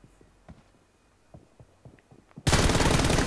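Gunfire from the PUBG Mobile video game, with scattered faint single shots and clicks, then a sudden loud sustained burst of rapid automatic fire close up.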